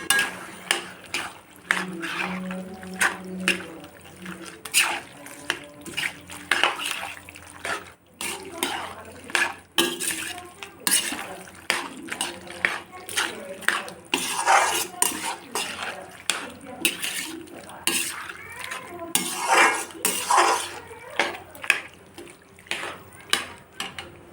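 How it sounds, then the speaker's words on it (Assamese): Mango jelly mixture being stirred in a metal pan, with repeated clinks and scrapes of a utensil against the pan at an irregular rhythm, close and fairly loud, with no talk over it. "তাৰপৰা মই গোটেইখিনি মিক্স কৰি পেলাম।"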